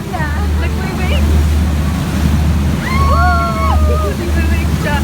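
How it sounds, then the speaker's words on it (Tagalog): Large waves slosh and surge against a boat riding the water at Al Ghubaiba in Dubai, with a steady low engine drone and wind throughout. Faint voices and whistling calls rise briefly midway. "Ay, grabe, ang lalaki ng alon pala dito"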